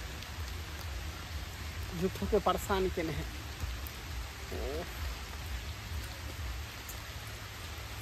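Steady rain hisses softly in the background while a person speaks briefly over it.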